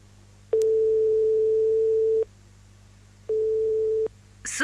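On a telephone line, a loud, steady ringing tone sounds twice. The first tone runs long, and after a pause a shorter second tone follows, with a low line hum underneath.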